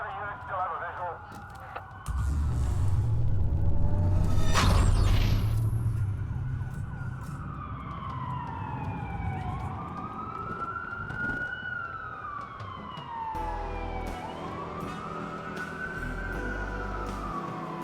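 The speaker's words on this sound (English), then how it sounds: "A lot of sirens for a blackout." Police sirens wail and sweep in the Watch Dogs video game, rising and falling over a low rumble, with a loud burst early on and game voices talking over them.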